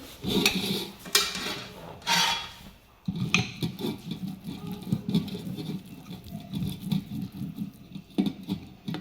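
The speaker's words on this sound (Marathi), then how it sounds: "ह्याच्यामध्ये आपल्याला अशी पूर्ण जेवढी पातळ होईल तेवढी अशी लाटून घ्यायची आहे" An oiled rolling pin rolls out sesame chikki, making close, irregular soft rubbing and patting sounds with a few sharper scrapes. There is no talking.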